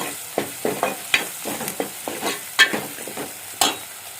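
Ginger, garlic and green chili paste with masala sizzling in a pan, stirred in a series of scraping strokes over a steady frying hiss, close and fairly loud with no talking.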